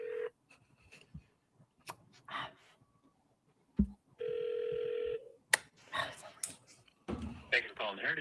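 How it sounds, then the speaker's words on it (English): A telephone call goes through with a burst of dialing tones and then a sustained ringback tone, while a person makes short sounds and talks in between. "This is a totally plausible phone call."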